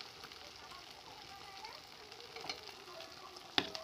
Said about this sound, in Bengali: এইভাবে সবকটা উল্টে পাল্টে আমি লাল লাল করে আমি ভেজে নেব